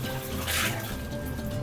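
Tap water runs steadily into a cooking pot as it is washed, a constant close splashing rush with no talking.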